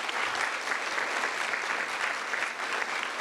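Applause from an audience at a Lamar University open house, a steady dense wash of many hands clapping at even volume with no voices.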